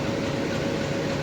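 A train departs from Dhari towards Junagadh, giving a steady broadband rumble and rolling rail noise that stays at a constant moderate level throughout, with no voices.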